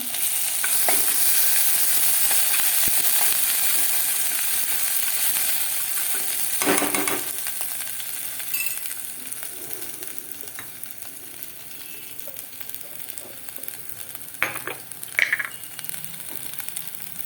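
Ginger, green chili and garlic paste hits hot oil with cumin for a Gujarati kadhi, giving a loud, hissing sizzle that fades after several seconds into a quieter simmer with occasional stirring clicks and taps.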